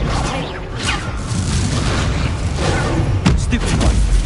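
Explosive spell blasts from Hogwarts Legacy combat, booming bursts set within a dense, continuous wash of battle noise that stays loud throughout.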